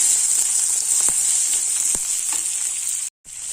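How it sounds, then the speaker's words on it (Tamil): Onion, garlic and tomato sauté in oil in a pan, a steady loud sizzle with occasional stirring clicks and a brief dropout near the end, no voices. "வெங்காயமும் பூண்டு வதங்கிட்டு இருக்க நேரத்தில் தக்காளி பழத்தையும் சேர்த்துறேன் நல்லா வதங்கட்டும்"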